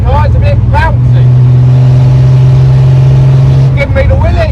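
Close, loud engine drone from a Chevy Stylemaster cruising at speed, a steady low hum holding through the middle with road rumble, while people talk over it at the start and end.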